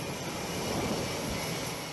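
A US Marine Corps F-35B jet on a Navy carrier's steam catapult, giving a steady, loud, broadband engine roar with no break.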